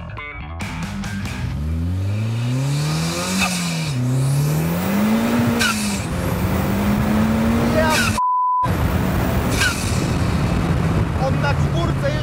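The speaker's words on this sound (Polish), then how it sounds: "Na czwórce jeszcze zrywa przyczepność." A 600 kg race car with 320 horsepower accelerates hard, its engine rising in pitch through the gears while the tires lose traction in fourth, with a brief electronic beep near the end.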